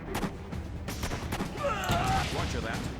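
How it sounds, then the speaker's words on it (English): Gunfire rattles against troops in the World War II strategy game Blitzkrieg 3, a burst of overlapping shots with mechanical clatter and a brief whining tone midway. "Our troops are under fire."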